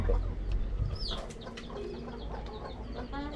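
Chickens cluck and give short scattered calls close by on a small farm, quiet against a steady low background.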